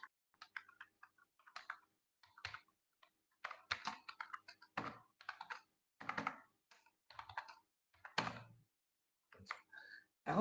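Scattered keystrokes on a computer keyboard while writing HTML button code, arriving in short irregular bursts of clicks with quiet gaps between them, close and fairly soft.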